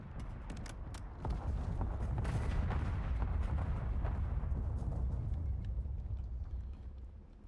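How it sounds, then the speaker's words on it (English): Smoke screen artillery bombardment in a video game, a dense barrage of sharp cracks and thumping impacts merging into a sustained rumbling roar, moderately loud with no talk. "Hostile, smoke screen bombardment incoming."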